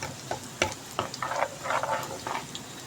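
Ajwain seeds dropped into a hot tadka for green moong dal crackle and sizzle in the pan, soft popping and spattering with light stirring, close and fairly quiet, with no talk.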